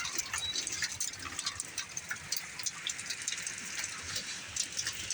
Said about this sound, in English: I've got a little bit of hail and a lot of water running down.